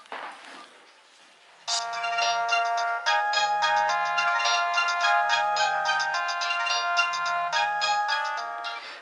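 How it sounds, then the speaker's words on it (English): A Nokia 216 dual-SIM keypad mobile phone plays its ringtone, a bright, steady electronic melody that begins after a quiet lead-in and continues loudly for about seven seconds with a faint repeating low tone beneath. "Then coming to the 216."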